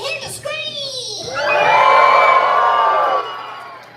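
A crowd of park guests at Magic Kingdom screams and cheers, rising after a few children's shouts into a loud, sustained roar that holds for about two seconds and then fades.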